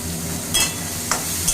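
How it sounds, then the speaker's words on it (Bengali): Onion added to garlic already fried in a pan, frying with a steady broadband sizzle and a few brief stirring scrapes, close and moderately loud, with no talking. "এই রসুনটা মোটামুটি কেন একদম ভাজা হয়ে গেছে এরপরে একটুখানি আমি পেঁয়াজ দিয়ে দিলাম"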